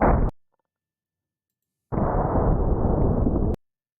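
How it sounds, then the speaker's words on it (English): Gunshot fired at a replica T-rex skull, a heavy blast cut off abruptly, then a longer roaring burst after a pause, loud and close with no talk. "I think I need to shoot it again."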